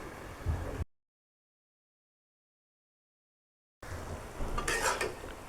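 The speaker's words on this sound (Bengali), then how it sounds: "এখানে একটু নেড়ে ছেড়ে দিব" A dried fish curry is stirred in a pot with a spoon scraping and clinking against the metal. The stirring comes in two short bursts, separated by a few seconds of complete silence.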